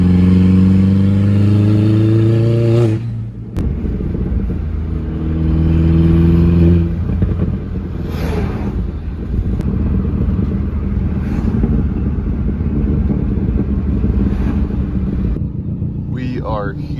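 A car engine revs and drones up and down close by, loud and sustained, with people talking over it now and then.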